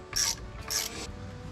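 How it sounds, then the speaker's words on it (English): A hand ratchet clicks through two short strokes while loosening 11 mm hose clamps on the charge tube of a 2020 Polaris RZR Pro XP, close up over a low workshop hum. "the clamps are 11 millimeter. So we'll loosen those up."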